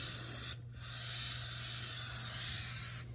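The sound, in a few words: spraying aerosol carburetor cleaner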